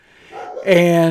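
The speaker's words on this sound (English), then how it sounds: "sorry about the dog." A dog gives a single short, loud bark close by as a voice begins to speak.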